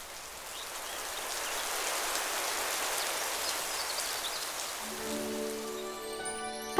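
Cartoon rain falls in a steady close hiss of drops that swells slightly and then gives way to a rising melodic tone near the end, with no talking.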